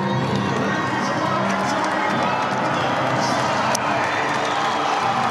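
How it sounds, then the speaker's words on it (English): Spectators gather in a rugby stadium before a provincial ITM Cup match between Auckland and Waikato, a steady broad crowd murmur with scattered distant shouts and cheers running throughout. "Crowd building, a late turn-up by the faithful."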